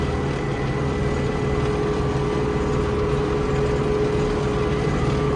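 An MTZ-82 tractor engine runs steadily during field cultivation for sunflower sowing, a constant loud drone with a sustained tonal whine, close and unbroken throughout.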